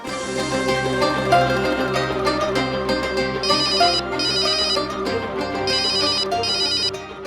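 A telephone rings repeatedly with an electronic ringtone, steady bursts of bright chiming tones filling the room, loud and close with no voices over it.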